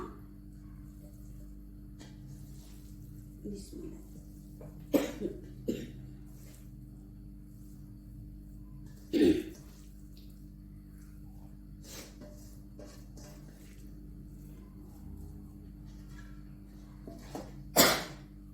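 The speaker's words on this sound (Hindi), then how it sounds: "उसकी वजह से मुझे खांसी आ गई है" A few short, sharp coughs break out at scattered moments over a steady low background hum, with no talking.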